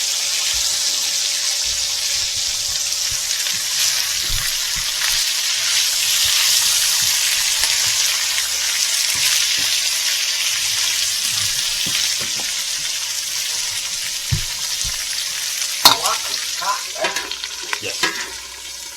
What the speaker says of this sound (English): You just gotta bide your time and keep mixing and stirring